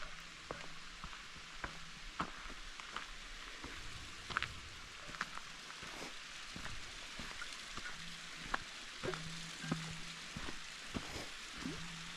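Steady trickling and splashing water from a small mountain stream on Sulphur Mountain in the Canadian Rockies, a continuous wet patter with occasional sharper drips, fairly close.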